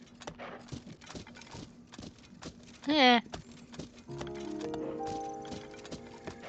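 Horse hooves clip-clopping in a video game, a short rhythmic patter of steps heard under a man's speech, followed by a brief bright chime and a sustained game music tone.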